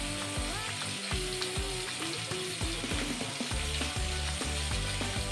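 Chicken pieces for soup fry in a pan with a loud, dense sizzle, broken by repeated sharp clicks and scrapes of a utensil against the pan, with no voices.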